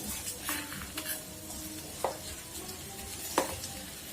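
Mashed boiled potatoes stirred into a frying pan, with a soft ongoing sizzle under a few scraping strokes and sharp clinks of a utensil against the pan.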